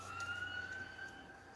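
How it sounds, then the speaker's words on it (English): An ambulance siren passes some way off as a faint, steady wailing tone, distant and held under a quiet room. "Hope the ambulance is going by"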